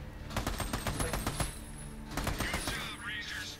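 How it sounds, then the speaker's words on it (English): Rapid bursts of gunfire from the video game Army of Two, rattling in quick repeated volleys across the clip, with voices faintly present beneath the shooting. "I think I was just shooting the box."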